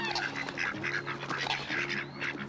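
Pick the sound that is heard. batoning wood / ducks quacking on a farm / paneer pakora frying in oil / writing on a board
ducks quacking on a farm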